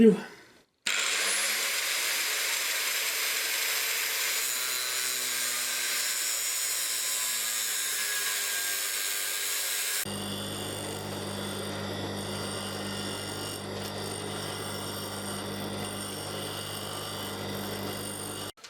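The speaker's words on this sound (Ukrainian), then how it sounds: "Тепер від шпилечки відрізаю шматочок довжиною 220 мм." A power tool cuts a 220 mm piece off a threaded steel rod with a steady high grinding whine. Partway through, the tone shifts to a rougher, lower buzzing that carries on to the end.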